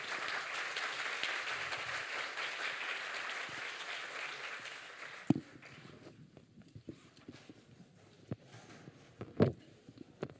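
A conference audience applauds a panel on energy poverty with a steady wash of clapping for about five seconds, then it stops abruptly and gives way to footsteps and shuffling in the hall.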